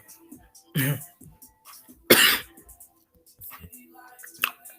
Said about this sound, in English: That's not a COVID cough. Okay. That is a marijuana cough.